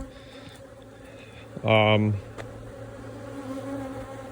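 Honeybees hum steadily around a hive during work on a multi-queen micro nuc, a faint continuous drone throughout, with one louder close buzz as a bee passes near for about half a second.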